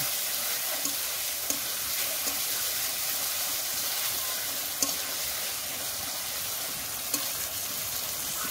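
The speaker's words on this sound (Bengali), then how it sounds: "মাছটা দিয়ে কিছুক্ষণ রান্না করে নেব।" Lote fish sizzling and frying in a hot pan, a steady bright hiss with occasional small pops and stirring clicks, no talk.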